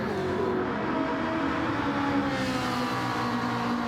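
A Ferrari race car engine screaming in seventh gear during a racing game race on a high-speed ring, a loud continuous drone whose pitch drifts slightly, heard alone without voices.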